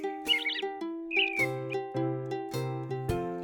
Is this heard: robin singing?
yes